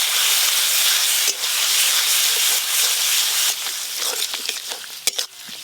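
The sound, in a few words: spinach paste sizzling in frying spice mixture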